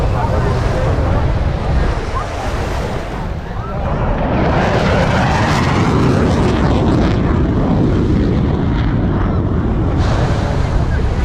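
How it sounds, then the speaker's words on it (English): Four F-15 fighter jets pass over Miami Beach during an air and sea show, a loud, sustained broadband roar mixed with heavy wind buffeting and surf-like rush that swells and sweeps across the whole stretch. "4 F-15s over Miami Beach."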